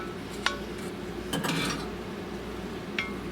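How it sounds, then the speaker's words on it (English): A spoon scraping and knocking against a pan while scooping a ground beef sloppy joe mixture back in, a few sharp metallic clinks and a short scraping burst over quiet background. "So, I have my spoon. And I'm just gonna sit there and put it all back into my pan."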